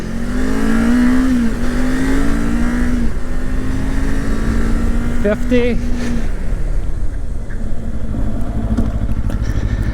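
A Kawasaki Ninja 500 motorcycle braking with only the front brake during an ABS test, its engine note falling under strong wind rush with a short squeal partway through, while a rider speaks over it.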